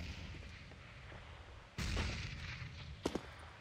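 Explosions in a CS:GO professional tournament match sound as a sudden deep blast rolling over low background rumble, followed by a pair of sharp, distant bangs.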